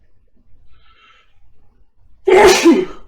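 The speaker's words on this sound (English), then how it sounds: "I apologize for that sneeze" A single sharp, loud sneeze bursts out after a few seconds of near silence, close to the microphone.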